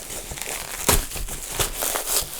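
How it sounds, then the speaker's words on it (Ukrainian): Crinkly wrapping on a gift package of honey is torn and rustled open, giving a close, irregular run of crackling bursts with no speech. "Прям прямому ефірі така розпаковочка буде."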